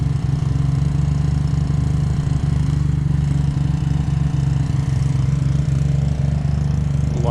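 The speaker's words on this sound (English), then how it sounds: "While it idles down as it warms up." An engine idles steadily and settles down as it warms up, producing a close, even mechanical hum with a fine regular pulse and no other sounds.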